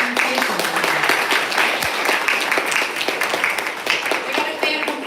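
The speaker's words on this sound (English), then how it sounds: "you got to keep applauding to the end" An audience at a reading event applauds, a continuous crackle of many hands clapping at close range, sustained at full strength with scattered voices mixed in.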